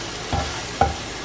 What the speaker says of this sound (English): To saute these onions, you can use oil or you can use a combination of oil and butter.